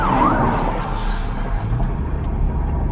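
A police car siren wails through street noise, its rising and falling tone clear at first and then fading under traffic rumble, with other emergency vehicles on the move.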